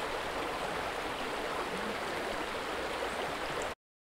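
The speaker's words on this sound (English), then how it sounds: "Let's just go to the stereo river and see how it sounds." A river flows in a stereo field recording, a dense continuous rush of water at even loudness that cuts off abruptly just before the end.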